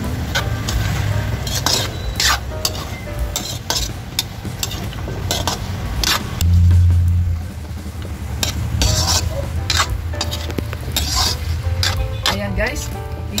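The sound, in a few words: sautéing radish and taro in a pot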